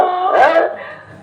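A voice gives a single short, rough bark-like yelp, loud and close, mimicking a dog during a Hindi nautanki folk theatre performance.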